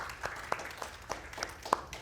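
A small audience claps, scattered individual hand claps sounding faint and sparse for about two seconds at a photography and climate art event.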